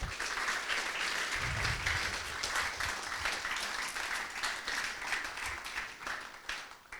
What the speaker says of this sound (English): Please give him a wide round of applause.